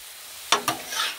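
Chili stirred on a hot Blackstone griddle gives two quick scraping clacks of a spatula on the steel, then a soft sizzle, close and brief.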